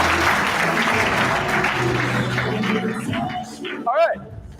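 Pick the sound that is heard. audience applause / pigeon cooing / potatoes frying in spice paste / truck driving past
audience applause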